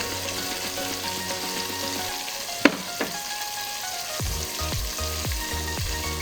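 Food frying and being stirred in a pan while cooking Arabian chicken kabsa, a steady sizzle under a background melody, with one sharp clink followed by a series of rhythmic scraping strokes toward the end.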